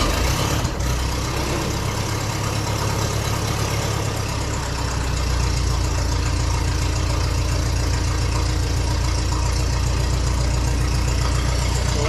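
A 1957 Ferguson 35 tractor running on TVO, its engine fitted with a diesel silencer, chugs loudly and steadily throughout in a close, continuous low rumble.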